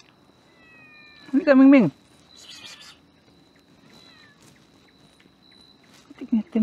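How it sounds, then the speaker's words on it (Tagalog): A cat meows loudly and close by at a night campsite in the Benguet mountains, then again more faintly near the end, with a person speaking softly between the calls. "Kanina walang pusa, ngayon may pusa."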